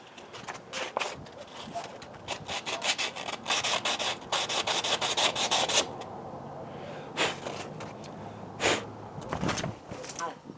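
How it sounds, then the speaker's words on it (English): Parts from a Harley Road King motorcycle hand-sanded with 320 grit sandpaper, rapid rhythmic rasping strokes close up, pausing and resuming in bursts, with occasional faint voices. "So I got some 320 grit here. I'm just going to sand these up just a little bit."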